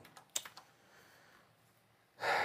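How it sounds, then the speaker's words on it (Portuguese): Fingers tap at a computer keyboard in a few quick, close clicks, then a quiet pause and a louder rustling burst at the end; no one speaks. "meu teclado parou aqui"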